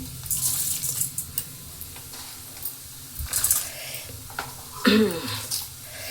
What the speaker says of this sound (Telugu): పోపులు అన్నీ ఒక్కొక్కటి వేసేసుకుందాము